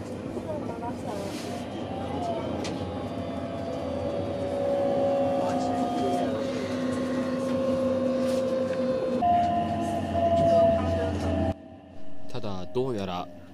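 A train rushes through a station on the JR Osaka Higashi Line with a continuous roar and whining motor tones that rise and shift, ending with brief clattering and a quieter stretch.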